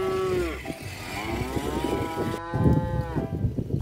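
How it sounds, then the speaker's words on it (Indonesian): A black cow lets out a long, deep moo, followed by another drawn-out low moo, with rustling and thumps around it. "Yang ini sapi grandong teman-teman."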